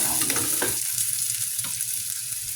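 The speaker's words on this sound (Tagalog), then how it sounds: "na-brown na natin yung ating bawang luya, saka sibuyas" Garlic, ginger and onion browning in a hot pan for Filipino adobo of liver and gizzard: a steady close sizzle and frying crackle with occasional stirring scrapes, heard alone without talk.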